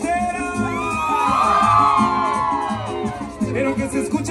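A concert crowd at a show in Tixtla shouts, whoops and cheers in a loud, sustained swell that rises and then tapers, with voices calling out over it.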